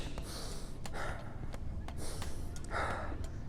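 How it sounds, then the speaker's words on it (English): Several sharp exhales through the mouth, as a boxer throws jab punches while shadowboxing, come as short breathy bursts at an irregular pace, close and fairly loud. "when you're ready to throw a punch, exhale through the mouth"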